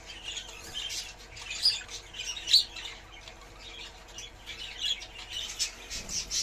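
Pet birds squawking and chirping after a bath, a scatter of sharp, fairly faint calls over a quiet background, with no one talking.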